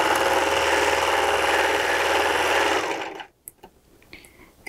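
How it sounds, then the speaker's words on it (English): A Baby Lock Celebrate serger runs fast with no fabric to clear its thread, a loud, even mechanical whir for about three seconds that then winds down and stops, leaving a few faint clicks. "I'm going to run the thread out."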